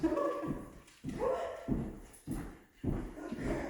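A dog barking five times in a steady rhythm, each bark loud and close with brief gaps between.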